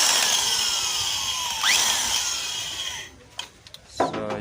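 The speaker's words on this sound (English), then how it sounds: "So I've used the 12mm bit to remove these excess parts." A 12mm drill bit cuts away excess homemade helicoil from stripped threads on an exhaust engine pipe, giving a steady close grinding whine with a brief pitch sweep, then stopping into a few short clicks and knocks.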